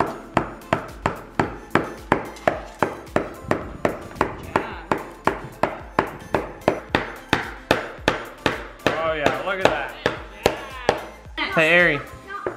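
Rapid, regular hammer taps on a plastic toy, about three per second, continuing steadily with a voice chiming in near the end.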